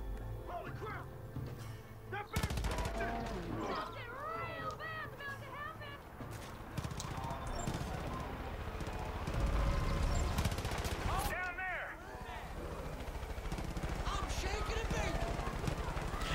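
Bursts of gunfire in the video game Far Cry 5, sharp shots and rattling volleys scattered through a busy mix of game noise, with people talking throughout.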